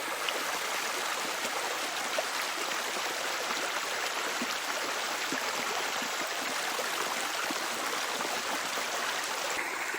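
Creek water flowing steadily outdoors, a constant broadband rushing and trickling that fills the whole stretch without pause, close and fairly loud with no voices.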